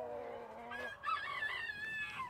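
Hens vocalising close by in a backyard flock, a drawn-out warbling call rising and wavering over a couple of seconds with faint background noise and no talking.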